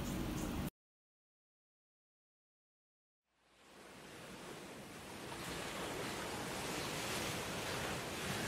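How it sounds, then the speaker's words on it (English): Ocean waves as a soft, steady broadband wash. A brief burst of sound cuts to near silence for about three seconds, then the surf fades in and holds at a moderate level. "Sounds like the ocean."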